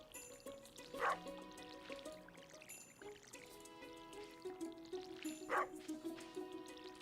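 A dog barking in the Stardew Valley farming video game, two short sharp barks about four seconds apart over steady game music, moderately quiet with no one talking.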